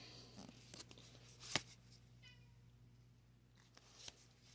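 A pet cat indoors, a male, gives a faint, short meow over a steady low hum, with a few soft rustles and one sharp click nearby.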